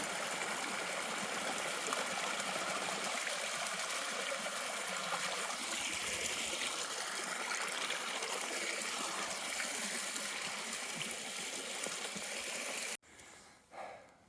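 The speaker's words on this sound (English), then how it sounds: "It's a pretty little waterfall." A small waterfall on a trail near Hoh Lake in the Olympic mountains, a steady broadband rush of falling water that stays loud and continuous before cutting off abruptly near the end.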